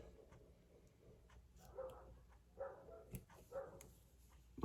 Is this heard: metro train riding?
no